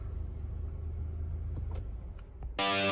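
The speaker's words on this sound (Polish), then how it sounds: "I kolejna próba rozruchu kończy się odpaleniem." A Nissan Micra engine cranks with a low, steady starter rumble for a couple of seconds, then catches and fires into a sudden louder, brighter run.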